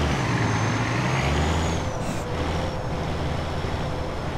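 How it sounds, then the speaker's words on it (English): A Freightliner FLD 120 truck engine in American Truck Simulator, a loud, deep, steady diesel drone with a low rumbling hum that shifts slightly in pitch, accompanied by a faint high whine. "I want you to hear this engine sound."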